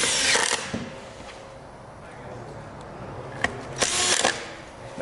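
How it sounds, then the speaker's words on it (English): A power driver buzzes screws back into the housing of an EGO ECU in short, quiet bursts, with faint clicks and handling noise in between. "Then you can proceed to put the rest of the screws in."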